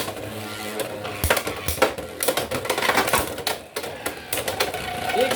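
Beyblade spinning tops launched into a stadium, clattering and clashing in a rapid run of sharp metallic clicks and knocks, close and loud, with no talk.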